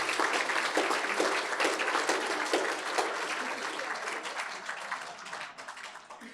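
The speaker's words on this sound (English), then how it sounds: "a round of applause for Piara." An audience at a brain injury awards ceremony applauds steadily with dense clapping that gradually fades slightly toward the end.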